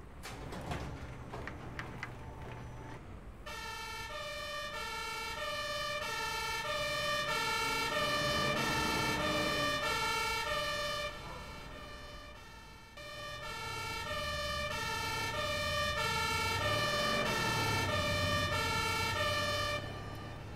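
A Feuerwehr Wunstorf HLF fire engine responds to a traffic accident on the L403 in the Region Hannover. Its siren starts suddenly after a few seconds and wails loudly and continuously over road and engine noise, with a short dip midway.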